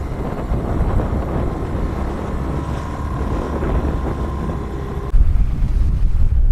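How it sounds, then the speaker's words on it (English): Strong, steady wind while sailing off the San Juan Islands roars across the microphone with broad rushing noise and low buffeting, growing rougher and heavier near the end; no voices. "It's really rough and really windy out there"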